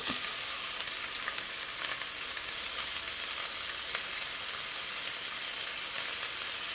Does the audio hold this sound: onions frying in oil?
yes